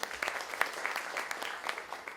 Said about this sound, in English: we can have a round of applause for them too